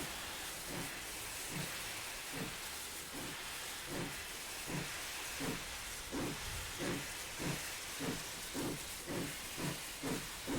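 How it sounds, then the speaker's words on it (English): Steam hissing steadily from the open cylinder cocks of a steam locomotive drawing forward into St John's station on the Manx Virtual Railway, with a regular chuffing pulse beneath the constant hiss. "Cylinder cocks open."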